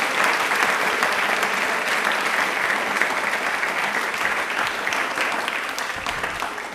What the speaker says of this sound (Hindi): हम सब के लिए एक बार तालियां जोरदार होनी चाहिए।